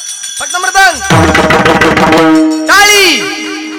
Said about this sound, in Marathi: फक्त मृदंग